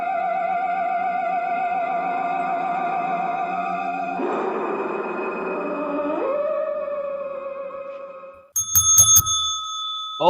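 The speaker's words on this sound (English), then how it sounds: "Ringing the bell right off the bat." A bright bell rings in quick repeated strikes near the end of this clip from the zombie video game Skirmish Ragers, following a sustained electronic tone that shifts pitch midway.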